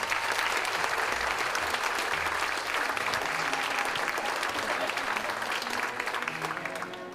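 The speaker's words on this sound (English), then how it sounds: "Let's give her a round of applause." A crowd at a 2012 county volunteer awards ceremony gives a sustained round of applause, many hands clapping steadily at close range before easing slightly toward the end.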